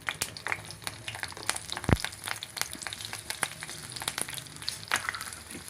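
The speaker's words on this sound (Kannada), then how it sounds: "ನೋಡಿ, ಮೆಣಸಿನ್ಕಾಯಿ ಫ್ರೈ ಆಗಿದೆ." Green chillies frying in a couple of spoons of hot oil with garlic and curry leaves for a green chicken gravy, a steady crackling sizzle with scattered sharp pops and one louder spit.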